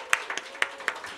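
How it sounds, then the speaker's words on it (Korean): A church congregation claps in a few sparse, separate hand claps at moderate distance, quiet and scattered rather than a full ovation. "우리 다은이 위해서도 뜨겁게 박수."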